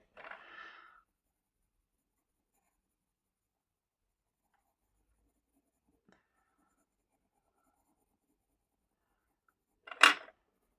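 A pencil, a dark shade, colours lightly on paper in short scratchy bursts, one near the start and a louder one at the end, with near-silence between.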